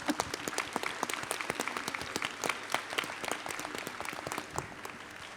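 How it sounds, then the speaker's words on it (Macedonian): An audience at a gala oratory evening applauds, many hands clapping in a dense, lively burst with sharp individual claps standing out, sustained evenly throughout at moderate distance. "Аплауз во отсуство за Сашка."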